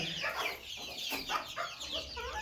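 A young rooster clucks close by in a Polish backyard chicken coop, giving a run of short throaty clucks and squawks over faint outdoor ambience, with other fowl nearby.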